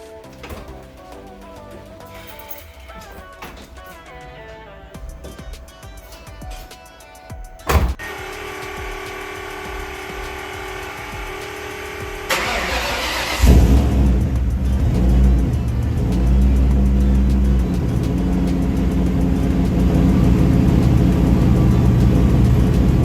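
Car engine, previously out of action with a cracked oil filter adapter housing, cranking and catching after some quieter clicks and mechanical noise, then revving up loudly and holding a strong, rough run through the rest of the stretch.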